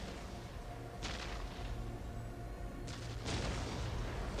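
Orc artillery firing in the strategy game Dawn of War, heavy booming bursts at about one second and again past three seconds over a continuous low rumble of battle.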